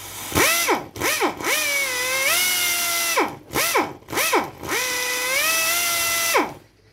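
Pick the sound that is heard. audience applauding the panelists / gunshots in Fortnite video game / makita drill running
makita drill running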